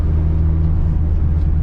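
A turbocharged Ford Fiesta ST engine tuned to 320 hp, a steady loud low droning rumble heard from inside the car for a brief stretch.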